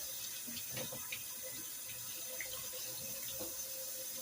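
Water runs steadily from a tap into a vessel, a continuous splashing hiss at moderate volume with no voices.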